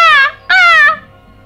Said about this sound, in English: The crow is another very common bird. Its sound is very, very familiar.